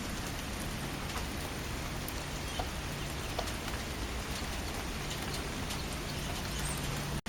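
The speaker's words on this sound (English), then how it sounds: "I'm going to take it out in the rain anyway" Steady outdoor rain falls as a dense, even hiss for several seconds, recorded close by a Panasonic HM-TA2 pocket camcorder, with occasional faint drips and a distant bird or rooster call underneath.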